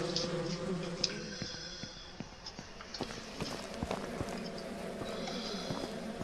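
Bees from a wild hive in Ranch Simulator drone in a steady, moderately loud buzz, with scattered light clicks and footstep-like taps over the top and no talking.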